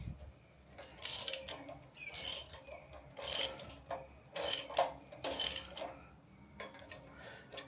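A 5/16 Allen key tightens a castle nut on a steering assembly, giving about five short bursts of close, crisp ratcheting clicks separated by quiet pauses.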